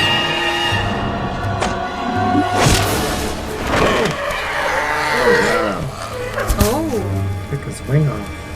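A cartoon cow lets out several wavering moos in a Little Krishna episode, mixed with music and effects while viewers chat over it.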